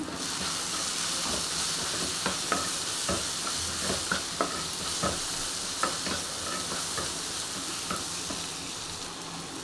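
Roasted spices and tomatoes are stirred in a hot pan, scattered spoon scrapes and clicks over a constant loud sizzling hiss, close by with no voices.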